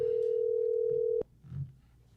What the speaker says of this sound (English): Let me see if this phone gonna ring.